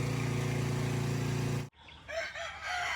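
Chickens and chicks gather near their coop, a loud sustained rooster crow with rich harmonics giving way to softer clucks and cheeping calls nearby.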